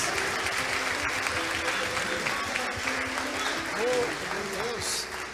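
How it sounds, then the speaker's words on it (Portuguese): Church congregation applauding steadily throughout, a dense continuous wash of clapping with voices and crowd murmur mixed in. "aplaude Jesus bem forte, em nome de Jesus."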